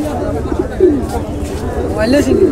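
Fantail pigeons coo at a busy Bangladeshi pigeon market, with soft warbling coos rising over steady crowd murmur and a voice talking nearby.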